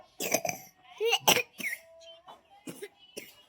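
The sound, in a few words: cough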